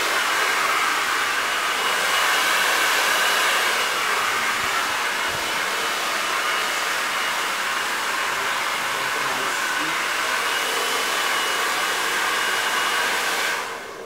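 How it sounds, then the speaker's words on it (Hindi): A hair dryer runs continuously while a brush blow-dries hair, a loud, even roaring whoosh close by that holds for the whole stretch and cuts off at the very end, with no voices. "ब्रश एंड ड्रायर दोनों साथ साथ चलेंगे"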